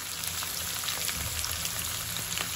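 Eggplant and onion fry in hot oil in a kadai, a dense, steady crackling sizzle at moderate loudness throughout, with scattered small pops and no voices.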